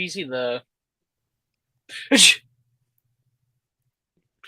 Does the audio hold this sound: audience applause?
no